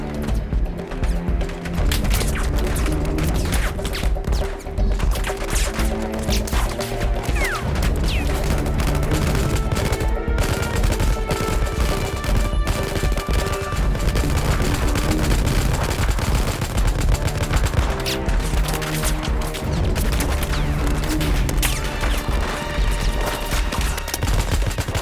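A firefight rages with dense, continuous gunfire: rapid automatic bursts and overlapping shots, interspersed with heavy booms and crashes, loud and unrelenting throughout.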